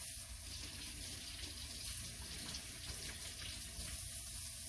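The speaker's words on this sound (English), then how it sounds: "Let me just rinse my hand off, hang on." Water runs from a kitchen tap as a hand is rinsed mid-baking, a steady, fairly quiet splashing flow that continues unbroken with no talk.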